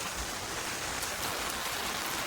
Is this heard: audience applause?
no